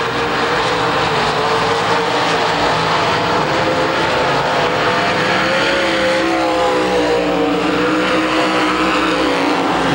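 A race car's engine roars steadily as it circles a racetrack, a loud, continuous drone with shifting pitch as it accelerates out of a corner, no voices over it.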